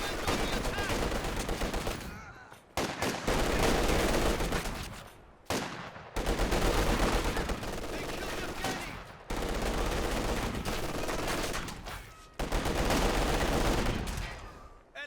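Repeated bursts of DP light machine gun and SVT rifle fire from Soviet guards in Company of Heroes 2, loud sustained volleys broken by brief pauses, several overlapping streams of automatic fire.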